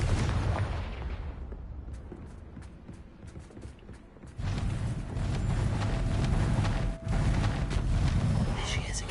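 A Confringo blasting spell explodes in Hogwarts Legacy, a deep booming blast with rumbling low end followed by crackling debris and a brief cut in the noise.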